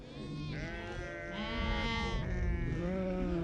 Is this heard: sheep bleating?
yes